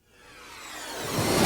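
A reversed whooshing swell that builds steadily louder and brighter, a sucking-back transition effect that cuts off at its peak.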